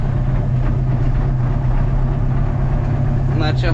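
Tractor engine running in a field during spring sowing, a loud steady low-pitched diesel drone with constant rumble throughout, nearby and dominant, with a brief faint voice near the end.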